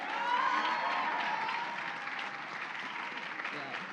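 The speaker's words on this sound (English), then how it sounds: "Can we get one more round of applause for the class of 23?" An audience at a graduation celebration applauds the class of 2023 in a steady, even wash of clapping that slowly fades a little. Cheering and voices blend in near the start.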